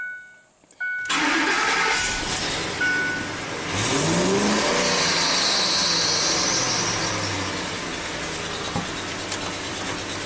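A Ford F-150 pickup truck engine with timing codes and low power turns over and catches, then runs steadily with a rough mid-range rumble and a few revs, close by, with no talking.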